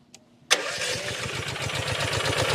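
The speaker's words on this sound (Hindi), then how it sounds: "इस मशीन को स्टार्ट एक बार करा के दिखाए ताकि इसकी आवाज़ भी सुन सके" A farm machine engine cranks and catches with a sharp start, then settles into a steady, loud, rhythmic chugging idle close by.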